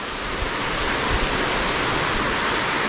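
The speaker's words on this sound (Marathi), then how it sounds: "पाऊस येतो आहे ना" Steady rain hisses down continuously, a dense even wash of noise with no voices.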